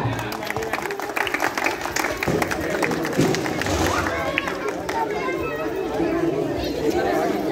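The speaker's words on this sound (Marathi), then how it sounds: "टाळ्या." Audience clapping and crowd chatter at a Navratri garba prize ceremony in Kamothe as trophies are handed over, a steady dense wash of applause mixed with voices for the whole stretch.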